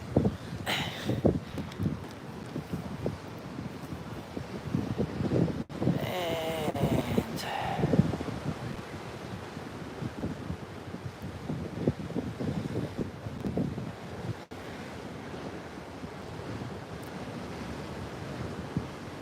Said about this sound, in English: these trees here are blocking the wind for us